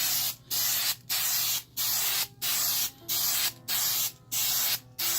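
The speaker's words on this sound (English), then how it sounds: "You just want to spray it really lightly." Short bursts of aerosol paint spray hissing, about eight quick even puffs separated by brief pauses, held about 14 inches from BMW E90 335 trim, close and fairly quiet, with a low steady hum behind.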